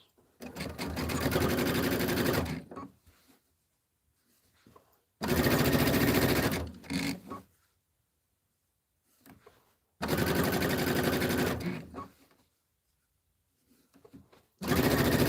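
A domestic sewing machine stitches seams in short, loud bursts of a few seconds each, separated by quiet pauses, with the motor running at a moderate, steady pace.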